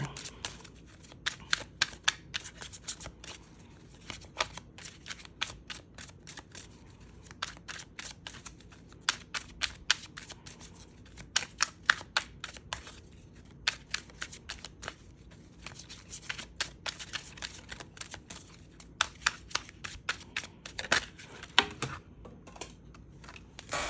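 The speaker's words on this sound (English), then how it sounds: "Let me get one more for this Ace of Wands here." Tarot cards being shuffled in hand, with a long run of rapid close snapping and riffling flicks that continue steadily throughout, and some faint speech in the background.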